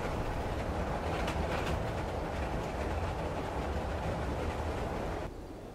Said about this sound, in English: The sound of the trains disturbs the peaceful environment of the Beel